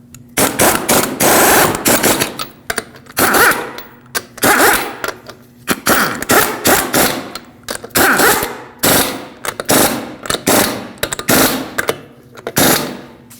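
A power tool spins lug nuts onto a rear wheel of a 2006-2015 Lexus IS250 in a cross pattern, producing close, loud bursts of ratcheting buzz, each a second or so long, separated by short pauses.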